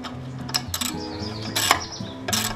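Ratchet wrench with a deep well socket tightening a 90-degree valve stem on a motorcycle wheel, giving several short bursts of close, quick clicking with mechanical ticks between them.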